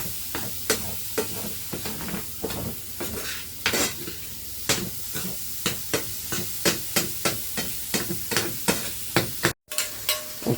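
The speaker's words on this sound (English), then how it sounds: "while we fry up the bacon until crisp" Bacon fries in a pan until crisp, with a steady sizzle broken by regular scraping and stirring strokes of a utensil against the pan. A brief dropout comes near the end.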